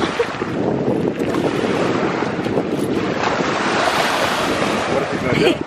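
Ocean waves surge and wash loudly and continuously, mixed with heavy wind buffeting the microphone.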